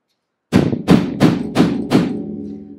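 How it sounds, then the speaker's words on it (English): Five firm hammer blows, evenly spaced and close, strike a scrap piece laid over the corner of a bulky vinyl bag to flatten it, each thud ringing briefly before the next. "I'm actually going to go over it with a hammer"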